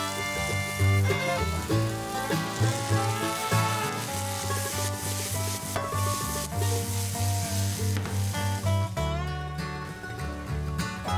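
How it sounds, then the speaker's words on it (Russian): Finely diced vegetables fry in extra virgin olive oil in a skillet for eggplant boats, a steady loud sizzle with occasional stirring that runs throughout beneath background music. "Его надо хорошенько подрумянить. На растительном масле."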